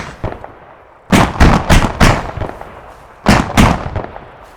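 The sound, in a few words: gunfire from an AI vehicle shooting a building in video game Arma 3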